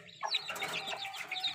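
Newly hatched chicks, crossbred from elite gamecocks, peep in quick, high, bright chirps, close and fairly soft, with a few overlapping calls and no talking.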